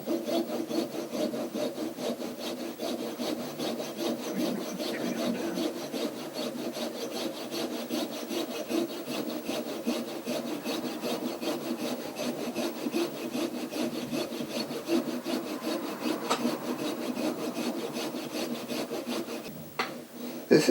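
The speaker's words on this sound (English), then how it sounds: "This is a jeweler saw that I'm using." A jeweler saw cuts into a plastic skull in steady, continuous back-and-forth strokes, a close rasping scrape that runs for about twenty seconds with no talking.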